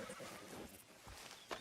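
Horse whinnying in the Red Dead Redemption 2 video game, a faint neigh amid steady background ambience with a brief louder burst near the end.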